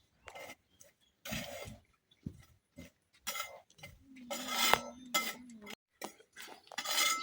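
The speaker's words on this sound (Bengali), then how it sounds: "লাড়াচাড়া করতে করতে ভাজি করা লাগবো" Whole spices dry-roast in a pan for chatpati masala while a spoon stirs and scrapes them in repeated short bursts, with rattling clinks and gritty rubbing separated by brief pauses.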